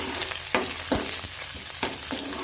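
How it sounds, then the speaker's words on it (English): Chopped onion, curry leaves and dried chili frying in oil and being mixed, with a quiet sizzle under repeated scraping strokes of a spoon at an irregular rhythm. "Add chopped onion, curry leaves, dried chili to the oil. Mix it well."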